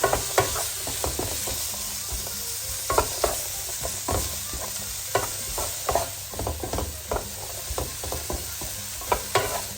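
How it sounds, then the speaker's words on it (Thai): Pork and onion are stir-fried for fried rice, with quick rhythmic spatula scrapes and knocks against the pan over a loud, continuous sizzle. "เดี๋ยวขอผัดหมูกับ ต้นกับหอมใหญ่ในขงสุกก่อนแล้วค่ะเนาะ"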